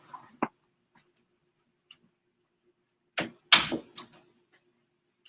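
A door being shut indoors: a sharp knock early, then after a quiet stretch a cluster of close clunks and rattles as it swings and latches, with a faint tick in between.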